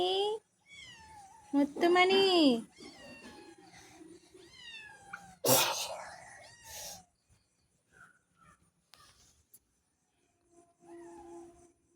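Kittens meowing close by: several high, wavering cries bunched early on, mixed with a person talking, then quieter scattered sounds.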